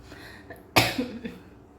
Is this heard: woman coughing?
yes